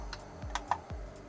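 Computer keyboard keys pressed during PC gaming on a budget $400 gaming PC setup: several quick, crisp clicks scattered irregularly over about a second, close and fairly quiet, with no talking.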